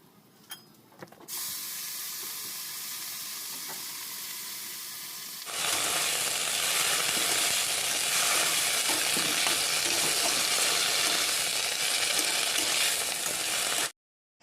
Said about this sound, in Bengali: তো এই কলমি শাকটা ভাজা হবে